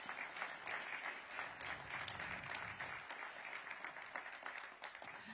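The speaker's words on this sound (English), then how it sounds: "let's give him a round of applause" A university ribbon-cutting crowd applauds the campus's incoming leader, a steady even patter of many hands clapping throughout, heard at a modest distance with faint background voices.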